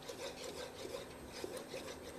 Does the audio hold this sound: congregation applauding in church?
no